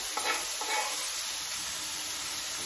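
Courgettes and onions sautéing in a pan, a steady close sizzle and hiss with a few soft stirring scrapes near the start.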